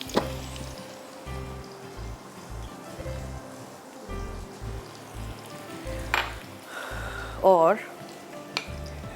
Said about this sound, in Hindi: यहाँ तेल जो गरम हुआ है उसमें हमने प्याज शामिल करनी है पहले